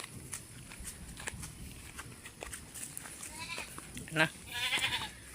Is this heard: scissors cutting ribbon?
no